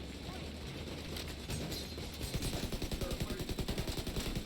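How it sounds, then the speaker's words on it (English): Pistol shots in The Division 2 start midway as a fast, regular string of sharp reports, loud and close, following a busier stretch of game noise. "Everybody, shoot him with pistols."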